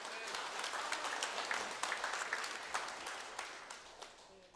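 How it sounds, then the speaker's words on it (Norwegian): A church congregation at a Saturday song meeting applauds a preacher: steady, dense clapping from many hands, moderately quiet and at some distance, holding evenly throughout. "Gi han en ordentlig applaus."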